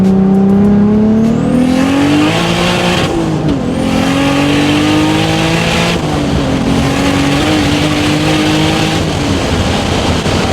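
A big-turbo 2JZ Toyota Supra engine accelerates hard from inside the car, loud and close, with its pitch climbing through several gear shifts and brief dips between them.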